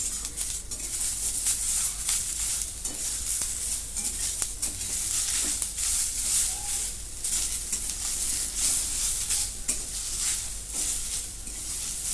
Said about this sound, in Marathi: आता ह्याच्यामध्ये एक टॅमॅटो घेतलाय आहे लाल भडक तो पण परतून घेते